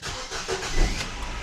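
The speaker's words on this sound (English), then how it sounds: "Now that the car is started" Car engine idling just after being started following an oil change, a steady low rumble with hiss, close and continuous with no talk.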